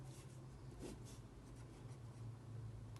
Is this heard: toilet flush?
no